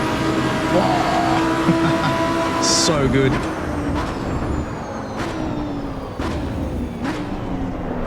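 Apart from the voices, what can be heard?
sports car engine screaming at speed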